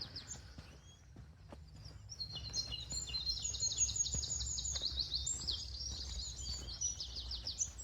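Birdsong fills the air at Rudyard Lake in the morning, a busy stream of high chirps and warbles from several birds, growing louder after a quiet start, with soft footsteps underneath.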